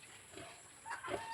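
A sow grunts softly in a new farm pen, a few low short grunts rising near the end, faint and close with no talk.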